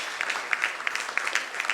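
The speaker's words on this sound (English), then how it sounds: "Can we have the loudest round of applause, ladies and gentlemen?" Light, scattered clapping from a modest audience at a leadership summit panel, individual claps distinct and fairly faint, with no talking over it.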